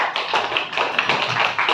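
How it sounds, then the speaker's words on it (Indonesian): A classroom group of students applauds a presenting team, a brief burst of quick, fairly light hand claps from several people nearby. "Kita berikan aplaus kepada kelompok 2."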